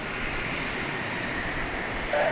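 A Southwest airliner departing Dallas Love Field gives a broad, steady engine roar that fills the whole stretch at a constant, fairly loud level, with no talking over it.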